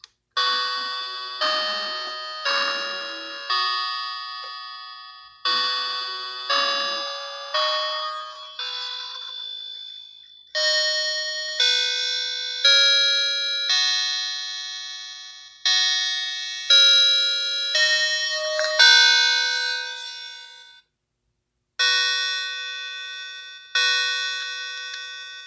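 A newly assembled Westminster chime clock striking, its bright metallic chime tones ringing out in a clear melodic sequence of evenly spaced notes that decay between phrases, loud and close with no talk.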